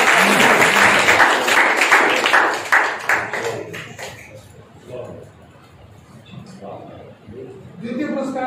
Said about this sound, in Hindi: तालियों के साथ स्वागत करें।